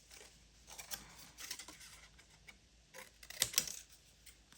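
Scissors snip through paper for a scrapbook mini album, a few quiet crisp cuts and rustles scattered across a short stretch, close and faint.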